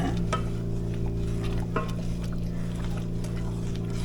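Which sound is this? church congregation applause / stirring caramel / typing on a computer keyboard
stirring caramel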